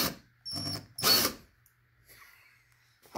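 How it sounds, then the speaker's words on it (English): Short bursts of a small power drill whirring close up as the bit bores into a fishing lure, two brief runs followed by quiet, then another start at the end. "you put a drill bit in at an angle. You got to go slowly."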